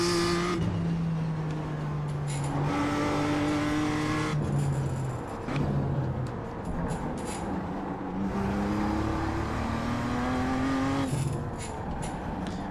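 Sim racing engine from a BMW M2 lapping Okayama in iRacing, repeatedly lifting off for braking and downshifting, then climbing back up through the revs with a rising whine, steady and near throughout.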